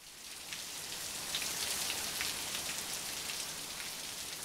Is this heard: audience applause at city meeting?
no